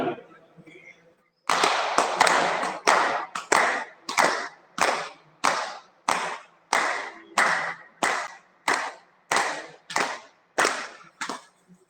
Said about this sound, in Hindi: लेते हैं ताली